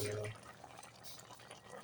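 Paksiw stew of tamban or turay fish boiling in an uncovered pot: soft, close bubbling and liquid gurgling at low volume, with a brief voice at the very start.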